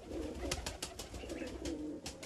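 Domestic pigeons cooing, soft low throaty calls repeated in a steady rhythm close by, with faint rustling of wings and feet.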